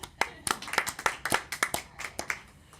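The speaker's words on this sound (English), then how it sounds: "I think we should all give her a round of applause" A few people at a city council meeting clap for a birthday, sparse separate handclaps at close range in an uneven patter lasting a few seconds, with no talk over them.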